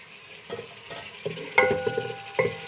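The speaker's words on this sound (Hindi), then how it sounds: "इसको फ्राई करेंगे हम" Chicken fries in a pan with a continuous sizzle, while a spoon scrapes and stirs it in irregular bursts at close range.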